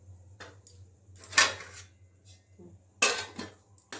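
Two metal clanks of a lid set onto a cooking pot of pulao, each a sharp ringing knock followed by brief rattle, close and fairly loud over a low steady hum, with quiet knocks between.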